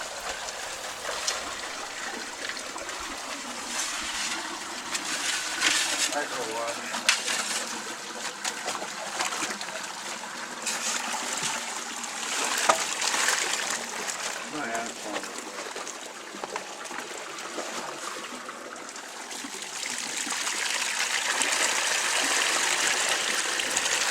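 Water pours steadily out of a pocket broken open in a dig, a continuous rushing trickle that holds nearly level throughout and grows slightly louder toward the end.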